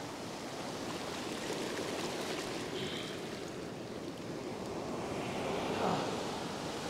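Ocean surf breaking steadily on a beach during a fishing trip, a continuous wash of waves with wind noise, fairly close and without any talk.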